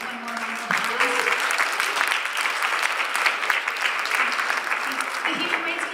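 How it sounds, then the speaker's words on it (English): Audience at an MLK Day celebration applauding the Human Rights Commission, a lively sustained clapping from a roomful of people, with voices and cheers mixed in underneath. "I want to give the Human Rights Commission one more round of applause"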